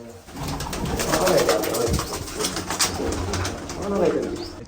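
Pigeons coo softly in low, rolling calls nearby, with faint voices in the background.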